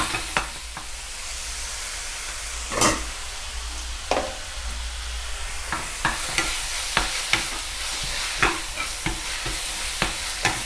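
Minced pork and tomato chili paste for nam prik ong stir-fried in a pan, a soft steady sizzle punctuated by regular sharp spatula scrapes and taps, close by, without speech.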